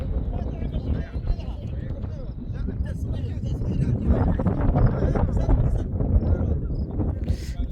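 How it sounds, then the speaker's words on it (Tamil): Cool wind gusting at an outdoor summer picnic spot at Jabal Hatt in Oman, a steady broadband rush buffeting the microphone throughout, with a crowd and voices faintly in the background. "காற்று ஜில்லு ஜில்லு ஜில்லுன்னு அடிக்குது"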